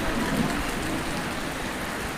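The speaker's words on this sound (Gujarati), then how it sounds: "વરસાદ આવે છે વરસાદ તો ખાસી આવી ગયો" Rain falls steadily in a dense, even hiss of drops hitting surfaces, loud and close, with no pause or change for the whole short stretch.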